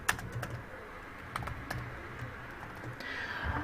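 Soft, scattered key clicks on a computer keyboard while Python code is entered, a handful of light taps over a faint background hum.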